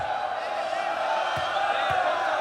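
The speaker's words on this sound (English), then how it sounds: "Listen to this crowd. They are well and truly involved now here in Changsha." A basketball crowd at the FIBA Asia Championship in Changsha keeps up a steady, loud roar of cheering and shouting around a free throw, with a few sharp bangs or claps breaking through the wall of noise.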